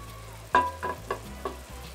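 Pre-fried laccha vermicelli is stirred in a pan for Bangladeshi semai laddu, giving four soft scraping strokes with a faint sizzle close by and no voices.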